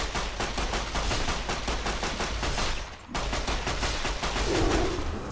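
Rapid automatic gunfire with special ammunition in the video game Fallout: New Vegas, a steady loud stream of closely spaced shots with one brief pause near the middle before firing resumes.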